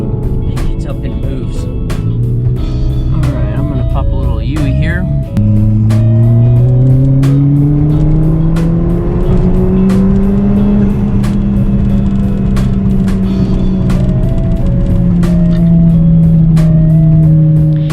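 A big-turbo Ford Fiesta ST runs hard on a chassis dyno, its engine loud and near as it climbs through a long pull with rising pitch after a brief shift, while a voice is heard over it.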